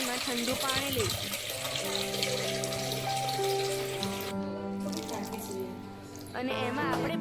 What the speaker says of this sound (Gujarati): હવે આપણે તપેલીમાં ઠંડુ પાણી લઈશું